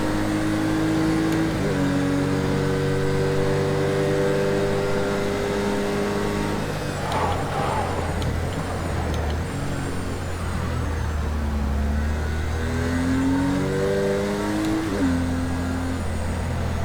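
A race car in the video game Project Cars 2 accelerating hard, its engine note climbing through gears with rising and falling whines, shifts and steady loud revving throughout.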